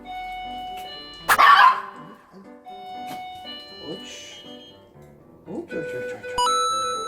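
A puppy barks sharply at a doorbell during training, a loud burst followed by intermittent yips, with chimes and a person speaking around it.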